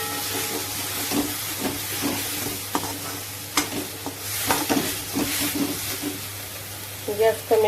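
Masala spices being roasted in a pan for a hotel-style cashew gravy: steady close frying sizzle and hiss with intermittent scraping stir strokes, a brief louder clatter near the end, no voices.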